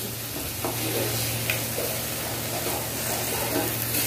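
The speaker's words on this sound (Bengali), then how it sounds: "টমেটো, হিং, আদা বাটা ভালো করে কষিয়ে নিচ্ছে।" Tomato, asafoetida and ginger paste sauté in a pan, a soft continuous sizzle with light stirring scrapes throughout, fairly close and even in level.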